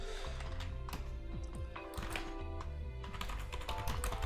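Rapid computer keyboard tapping close to the microphone, a dense run of quick clicks over a steady electronic hum.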